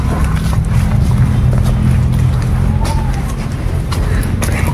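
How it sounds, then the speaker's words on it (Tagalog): Several motorcycles arriving, a loud, steady engine drone filling the whole stretch without letup, with occasional sharper bursts over the rumble. "Nagsisidagtingan ng mga motor."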